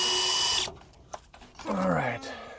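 A power drill whirs loudly as it unscrews a fastener, then stops, with a short spin-down whine afterward and people talking in the background.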